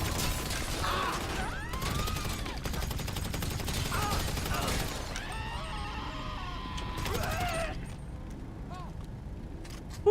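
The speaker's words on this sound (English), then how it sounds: "Oh my god, shotgun." Shotgun blasts in GTA Online ring out among a dense game mix of mechanical clatter and other effects, with voices talking over the sustained noise.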